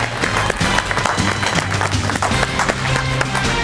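Studio audience applause greets a guest arriving on a Hindi-Urdu TV talk show, a dense, steady wash of clapping that holds at full level throughout, with music underneath.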